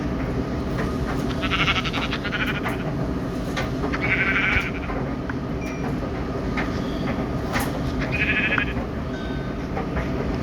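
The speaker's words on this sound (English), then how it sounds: "Well, we got sheep now." Sheep bleat in Minecraft Pocket Edition (Bedrock) several times, in short wavering calls over a steady busy game background with no talking.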